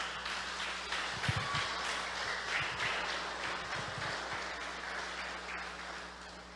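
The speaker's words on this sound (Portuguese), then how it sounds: "Dá um aplauso que ele merece." A church congregation claps during a sermon, a steady wash of moderate applause that carries through the whole stretch with no talking on top.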